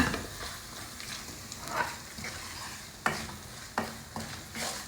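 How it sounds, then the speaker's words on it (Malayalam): Chili, turmeric, fenugreek and asafoetida powders heat in a pan for nutmeg pickle. A spoon stirs with scraping strokes and soft knocks over a gentle, steady sizzle. "മുളക് മഞ്ഞൾ ഉലുവപ്പൊടി കായപ്പൊടി എല്ലാം കൂടെ പെട്ടെന്നൊന്ന് ചൂടാക്കി"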